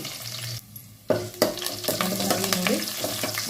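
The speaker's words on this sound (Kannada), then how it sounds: "ಬೆಳ್ಳುಳ್ಳಿ ಮತ್ತು ಕರ್ಬೇವಿನ ಸೊಪ್ಪಲ್ಲಿರೋ ಘಮ ಎಲ್ಲ ಆಯಿಲಲ್ಲಿ ಬಿಟ್ಕೋಬೇಕು ಆ ಥರ ಚೆನ್ನಾಗಿ ಫ್ರೈ ಮಾಡ್ಕೊಳ್ಳಿ" Crushed garlic and curry leaves frying in hot oil for a village-style fish saaru, with a sharp burst of sizzling after a brief lull, then steady crackling and stirring up close.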